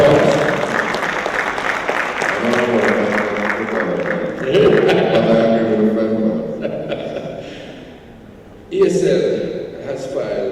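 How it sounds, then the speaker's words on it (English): Audience applause at an agri-business investment forum in Jamaica, sustained clapping from a seated crowd running beneath continuous amplified talk, swelling briefly near the end. "take a round of applause"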